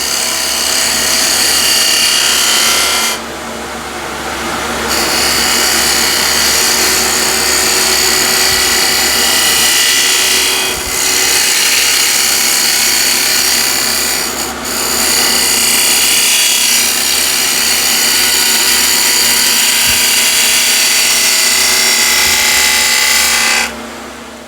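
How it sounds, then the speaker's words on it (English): Sharp spindle gouge cutting wood on a lathe, a loud continuous rough shaving hiss over the steady motor hum, with brief dips where the tool lifts off between passes. "when you have a nice, efficient and sharp spindle gouge, this is what you can expect"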